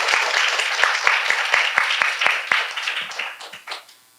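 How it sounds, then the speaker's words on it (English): A conference panel audience gives a short burst of applause, a few distinct claps standing out within the patter before it thins and fades out over about four seconds. "One round of applause"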